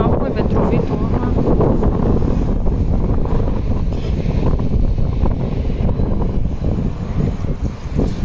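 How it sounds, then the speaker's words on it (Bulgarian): Wind blowing outdoors, a loud constant rumbling roar buffeting the microphone for the whole stretch, with a voice faintly audible beneath it. "Малко е ветровито"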